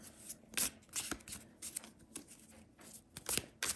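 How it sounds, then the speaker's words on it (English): Soft, quick riffling and slapping of a round tarot card deck being shuffled, in short irregular bursts, close and quiet with no talking. "it's quite difficult to shuffle this round deck"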